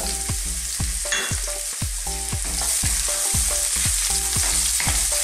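Onion sautés in a pan for Filipino bitter melon and pork, a continuous bright sizzle with no voices, backed by a steady rhythmic pulse.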